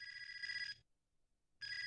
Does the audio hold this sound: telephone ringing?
yes